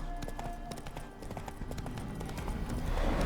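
Horse hooves clip-clop in a steady trotting rhythm in The Witcher 3 video game, fairly close, while a low rumble builds toward the end.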